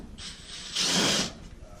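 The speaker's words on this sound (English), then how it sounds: "Before you can lift the lid, you need to undo these two screws right here." Screws on a dryer lid being undone with a driver, giving a short, close ratcheting whir of about half a second between quieter handling noise.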